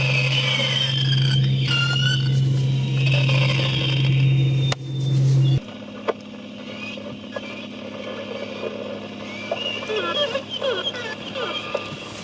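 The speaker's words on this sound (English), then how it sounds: "The whales communicate acoustically, and a microphone beneath the boat picked up their sound." Whale calls picked up by a hydrophone beneath a boat, rising and falling whistles and squeals over a steady droning engine hum, then fainter calls amid underwater noise after the hum cuts out.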